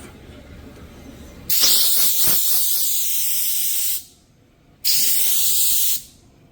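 Compressed air blasts with a loud, harsh hiss to blow dust off wooden drawer boxes before spraying: one long burst of a few seconds, a short pause, then a second shorter blast.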